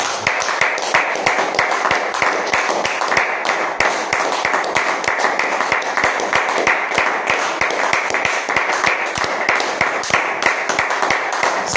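A church congregation applauds for the Lord at a revival service, a sustained, loud burst of many hands clapping together in a dense, steady rhythm.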